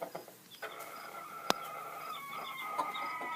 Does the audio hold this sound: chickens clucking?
yes